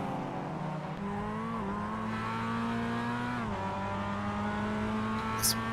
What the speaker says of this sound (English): Hearing clutches in and cars coasting into the final turn.